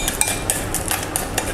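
A sturdy metal spoon mashes ripe banana in a bowl for banana cake, giving a quick run of light clinks and scrapes against the dish, close and with no talk.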